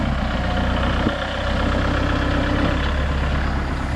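A farm tractor's engine runs loud and steady with a low throbbing idle while its front end is lifted outdoors, a brief clunk breaking in partway through and no talk.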